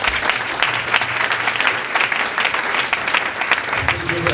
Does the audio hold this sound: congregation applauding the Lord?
yes